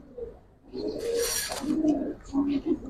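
Silver Giribaz and coloured pigeons, including a red-geared Dubas male, coo nearby in several rolling low calls, rising after a quiet start, with a brief rustle of feathers in the middle.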